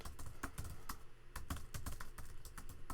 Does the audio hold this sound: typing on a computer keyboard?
yes